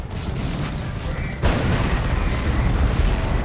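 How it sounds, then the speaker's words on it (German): A tank shells the player in Dawn of War II Chaos Rising, with a sudden heavy blast midway that sets off a sustained roar of booming explosions and artillery fire, loud and close. "Der Panzer schießt auf mich."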